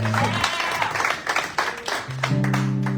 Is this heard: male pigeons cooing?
no